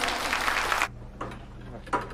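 Audience applause welcoming a speaker to a company presentation, a full burst of clapping for under a second that cuts off abruptly, followed by faint scattered sounds.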